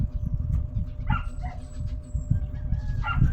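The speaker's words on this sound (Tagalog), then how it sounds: "Mayroong aso na umiiyak." A dog cries somewhere outside, faint whimpers and yips breaking out a few times over a low rumbling background.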